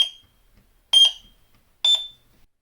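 A continuity tester beeps through pins of a 74LS02 chip on a Commodore 64 cartridge: three short electronic beeps spaced about a second apart, each a bright high tone with a brief fading tail, with silence between them.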